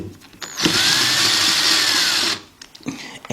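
A small 1/4-inch drive air gun with a 10mm deep socket runs in one burst of about two seconds on transmission pan bolts of a Nissan RE0F11A transmission, a loud close whirring rattle followed by quieter clinks and handling noises.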